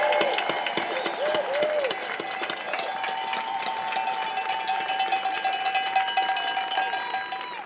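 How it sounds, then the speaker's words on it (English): A rally crowd gives sustained applause for the Solicitor General, a dense, steady wash of clapping and crowd noise that holds at an even level throughout, with a bright ringing tone riding over it. "Let's give them a round of applause"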